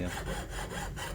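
A hand saw cuts through wood while a square frame is built, giving steady back-and-forth rasping strokes, close and loud, with no talking.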